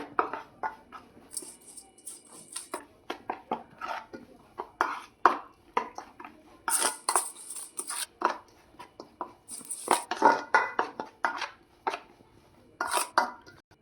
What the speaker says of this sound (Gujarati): હવે આ બધું આપણે મિક્સ કરી લેવાનું છે।